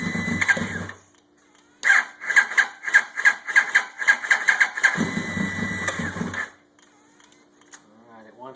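A 2000 Yamaha YZF-R1 sport motorcycle engine, mid-rebuild with no choke and a weak battery, cranks in a rapid rhythmic chug for several seconds, bracketed by louder rough bursts of running, close and loud.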